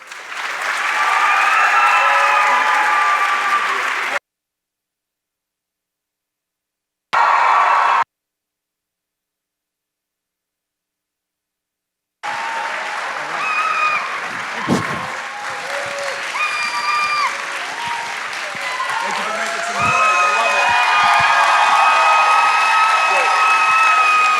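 Audience applause with cheers and whoops greets the dean and a congressman taking the stage at a university presidential town hall at Tufts, loud and sustained, cutting out twice before resuming with scattered shouts.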